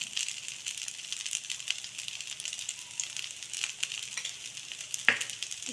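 Millet dosa frying in oil on a pan, a continuous fine crackling sizzle at low-to-moderate level with small popping irregularities and one sharp click near the end, no voices.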